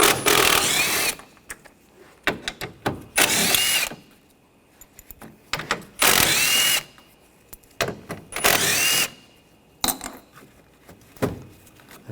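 Power tool with a 10mm socket spinning bolts out of a 2013-2022 Buick Encore during AC condenser and receiver drier replacement; five or six loud, close whirring bursts separated by quieter clinks and handling noise.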